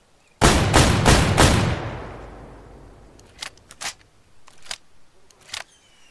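Gunfire from a UTV-mounted gun in the hunting game Way of the Hunter: four loud, rapid shots in a quick burst with a long fading reverberant tail, then several fainter, spaced sharp cracks.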